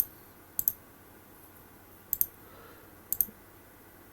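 A computer mouse gives crisp double clicks, three pairs spaced about a second apart, close and clear over faint room hiss while columns in a table are sorted.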